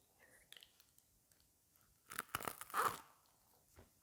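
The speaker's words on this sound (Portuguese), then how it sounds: "E agora a gente vai dar uma mordida aqui." Bites into rustic homemade corn bread topped with cream, giving a few soft crunchy, tearing chews close to the mic after quiet clicks.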